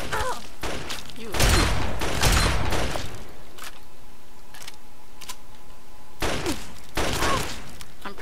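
Raiders firing guns in the Fallout 3 video game, heard as two loud clusters of rapid, rattling shots separated by a quieter stretch of low background hum.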